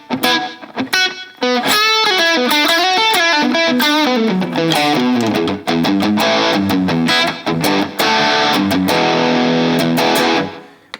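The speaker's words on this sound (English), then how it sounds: "The next distortion overdrive thing is just kind of a standard crunchy thing." An Enya Inspire carbon fiber smart guitar with a built-in speaker plays through a crunchy distortion overdrive tone with slap echo, loud strummed chords and quick picked riffs running continuously and close.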